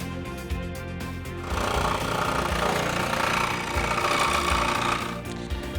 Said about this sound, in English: Now that we're done with that, it's off to the jigsaw.